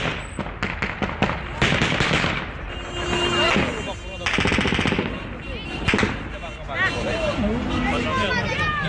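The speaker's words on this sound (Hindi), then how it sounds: "सुनते हैं गोलियों की तड़तड़ाहट की आवाज, जिसके बाद इलाका पूरी तरह से थर्रा उठा।" Bursts of gunfire in Kabul, Afghanistan, rapid cracking volleys and scattered shots over crowd commotion and shouting voices, loud and chaotic throughout.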